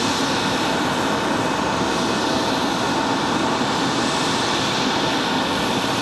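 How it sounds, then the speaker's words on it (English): A Delta CRJ regional jet's engines whine and roar continuously at the end of an airport runway, a dense steady broadband rumble heard from a distance with no letup. "CRJ gonna turn and burn here."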